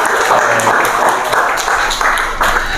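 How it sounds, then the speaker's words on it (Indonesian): Students in a classroom clap for a classmate, a loud, close round of fairly steady hand claps from a small group, with some voices mixed in. "Kasih tepuk tangan dulu untuk Arya."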